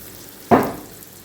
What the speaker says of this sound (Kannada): ಇದೀಗ ಸ್ವಲ್ಪ ಫ್ರೈ ಆಗ್ತಾ ಉಂಟು